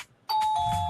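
A doorbell chime rings loudly and close, with a clear sustained tone starting abruptly and a second note following, heard alone without talking.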